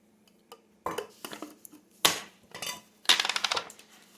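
Ingredients for meatballs chopped small with a knife on a board, irregular clusters of sharp close taps and clacks with quiet gaps between.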